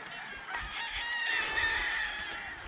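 Gamefarm roosters crow at mid distance, overlapping calls rising and falling over a steady outdoor background, with no voices present.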